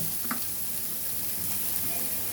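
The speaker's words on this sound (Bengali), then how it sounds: "আমি এখানে কেটে রাখা সবজিগুলা এক মিনিট বেজে নেব এক মিনিট পেঁয়াজ কাঁচামরিচ গাজর" Chopped onion, green chili and carrot frying in a pan, a continuous close hiss of sizzling oil at an even level, alone without voices.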